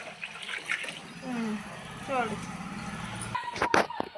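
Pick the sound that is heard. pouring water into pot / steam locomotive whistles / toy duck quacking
pouring water into pot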